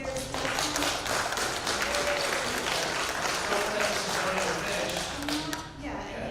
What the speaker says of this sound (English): I'm not looking for applause.